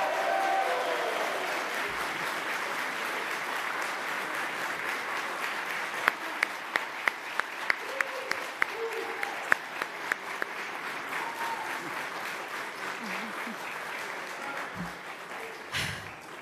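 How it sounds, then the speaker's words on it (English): A New York City Council chamber audience applauds at a hearing on construction safety training, a long, even wash of clapping with a run of sharp, close individual claps in the middle, easing off toward the end. "You can clap. I'll let you clap."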